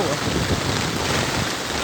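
A loud, dense downpour of heavy rain in Pampanga roars continuously and close by, its hiss filling the whole stretch without pause.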